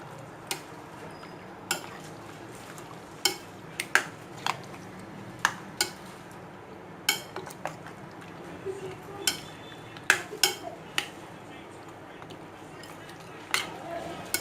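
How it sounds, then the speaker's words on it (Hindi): Chicken is mixed with marinade in a bowl for Lahori murgh cholay, giving a run of soft, irregular clinks and taps of a utensil against the bowl over a low, wet background. "इसको अच्छी तरह से मिक्स करें।"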